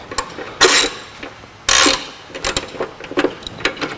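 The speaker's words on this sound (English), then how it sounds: "Remove the 12 millimeter bolt that holds the brake line bracket on." A ratchet wrench loosens a 12 millimeter bolt on a brake line bracket of a third generation Toyota Tacoma, with two longer ratcheting bursts followed by a run of quick, light clicks, close and clear with no talk.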